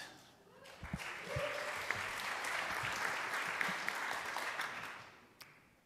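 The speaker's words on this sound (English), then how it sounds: "please clap for Wattbot." An audience claps steadily for several seconds, a dense crowd applause that swells quickly and then fades out toward the end.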